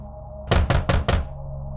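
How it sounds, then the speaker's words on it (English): Four firm knocks on a door in quick, even succession, close and loud over a quiet background hum. "There was a knock at the door."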